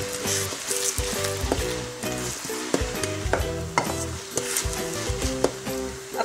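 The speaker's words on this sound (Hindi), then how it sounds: "अब प्याज की पेस्ट को 5 से 7 मिनट के लिए भूनें।" Onion paste frying in a pan for Indian chole, a steady bright sizzle under repeated rhythmic scrapes and knocks of a spoon stirring against the metal, close and clear, with no talking.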